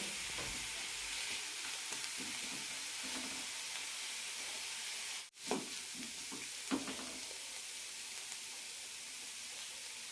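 Ash gourd pieces sauté in a pan, giving a steady, close sizzling hiss with soft stirring scrapes, broken by one brief dip in the middle.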